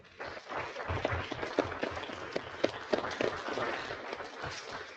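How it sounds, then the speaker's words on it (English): Residents at a town commission meeting applaud the police officers, a dense round of clapping from a small crowd, fairly faint and steady for several seconds. "giving our police officers a round of applause for the great job they're doing"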